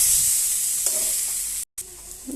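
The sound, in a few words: vegetables sizzling and stirred in a pan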